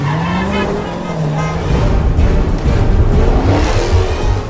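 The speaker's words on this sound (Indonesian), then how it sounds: "Dengan menggunakan mobil Toyota FT86, Min Jae dapat mengimbangi kecepatan mobil Jae-chol." Toyota FT86 racing and skidding in a car chase: a loud, close engine roar with screeching tires that swells in the second half.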